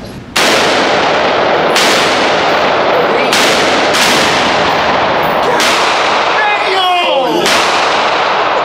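An AA-12 shotgun fitted with a switch fires fully automatic. Loud, booming blasts repeat roughly every second or so, several in a row, each with a long ringing tail, and no talk is heard.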